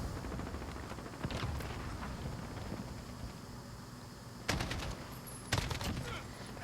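AK-47 assault rifle gunfire in Call of Duty: Modern Warfare (2019), with scattered sharp shots and short bursts over a steady background rumble, a few louder close cracks near the end.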